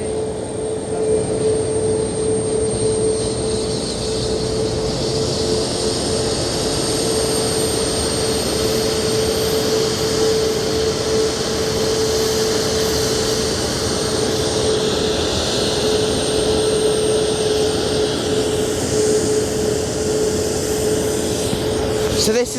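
A Ryanair Boeing 737-8 MAX taxis at Madeira airport, its jet engines giving a loud, steady whine and roar that holds for the whole stretch. A sharp tonal hum sits on top, and people talk faintly underneath.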